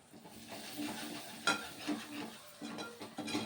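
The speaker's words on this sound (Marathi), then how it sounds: "मिनिट भरानंतर आपला मसाला अगदी मस्त तेलामध्ये भाजला जातो" Kolhapuri mutton curry masala paste roasting in oil in a pan, with steady sizzling and hissing and a few scraping stirs and clinks of a spoon against the pot, close and moderately loud.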